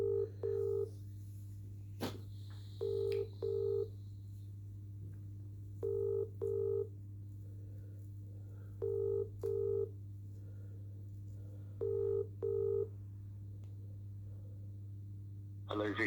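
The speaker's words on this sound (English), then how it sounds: "Ringing up Jonathan Smith." Telephone call ringing out, a steady low line hum under paired ringback tones repeating every three seconds or so, with a sharp click near the start.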